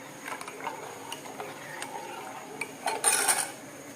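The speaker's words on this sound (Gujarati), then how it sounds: "અને પછી સતત હલાવતા રહીશું આપણે, એટલે આ દૂધ છે ને એકદમ ઘટ થઈ જશે." A utensil scrapes and clinks against a pot while milk with sugar is stirred, giving scattered metallic ticks and scrapes, close and moderate, with a brighter clatter near the end.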